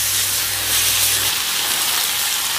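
Sprouted moong pulses sauté in hot oil with a steady, bright hiss and sizzle, continuous and fairly loud throughout, with a low hum fading early on.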